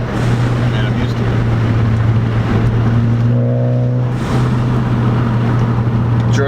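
A 2013 Ford Focus ST pulls steadily up through the gears to fifth, its engine a loud, continuous drone that shifts pitch from gear to gear, with people talking over it inside the cabin.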